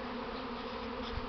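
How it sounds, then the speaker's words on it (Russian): A honey bee swarm pours out of a hive on a sunny, still, warm spring day, giving a steady, dense buzzing drone that stays even and fairly close throughout, with no talk. "25 была первая попытка выхода роя с улья."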